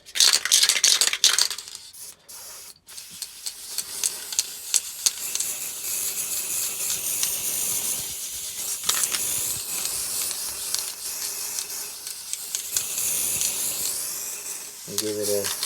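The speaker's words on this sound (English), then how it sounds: "apply some World Scenic's static grass layering spray" Woodland Scenics static grass layering spray hisses from an aerosol can in long, loud bursts with brief pauses, applied over a model hill made of foam.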